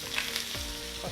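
Cumin, red chillies and curry leaves sizzling in hot oil for a dosa tempering, a steady close frying hiss throughout with a faint hum beneath.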